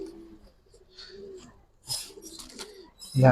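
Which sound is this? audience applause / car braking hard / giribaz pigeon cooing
giribaz pigeon cooing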